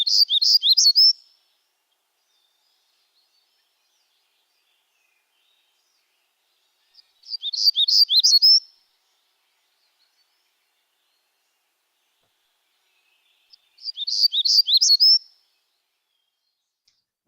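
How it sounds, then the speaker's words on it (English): Black-throated gray warbler singing: three short, high buzzy phrases, each about a second long and spaced roughly six seconds apart, clear and fairly close against complete silence between them. "The black-throated gray warbler."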